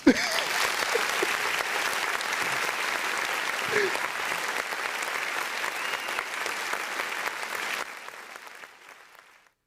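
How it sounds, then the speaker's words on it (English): Steady clapping from an audience during a wrestling podcast, a sustained, moderately loud patter of many hands that holds evenly for about eight seconds before fading out to silence. "give him an applause"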